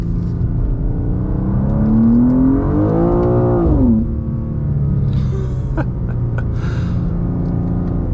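A BMW M2 G87 with a loud exhaust accelerates on a drive in Las Vegas, its engine note climbing steadily in pitch before dropping at a shift, then settling into a deep rumbling cruise with a few sharp pops.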